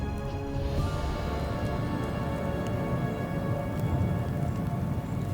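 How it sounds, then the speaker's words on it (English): Steady rain and hail pour down during a mountain storm in the Western Caucasus, a dense continuous hiss with scattered sharper impacts, close and loud throughout with no voices. "The storm breaks. First rain, then hail, and the next moment, snow."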